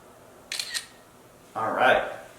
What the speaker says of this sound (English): I'm gonna hit that shutter and we'll see how this looks.